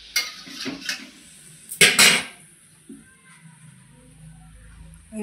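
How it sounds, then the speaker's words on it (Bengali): A spoon stirring and scraping food in a cooking pot, with a few sharp metallic clinks and scrapes, the loudest near the middle, then a quiet low simmer. "এবার আমি ভালো করে নেড়ে নেব।"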